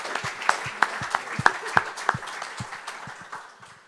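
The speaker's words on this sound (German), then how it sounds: "Sie dürfen auch klatschen." Audience applauding after a talk and conversation at a book event on a biography of Augustus at an art venue, a round of scattered, moderately close clapping with sharp individual claps that fade out over a few seconds.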